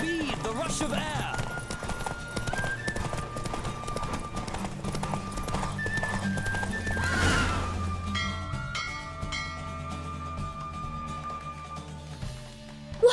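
Horse hooves clip-clop rapidly in a gallop through The Witcher 3, with an occasional whinny, steady and fairly loud under game music and a voice talking.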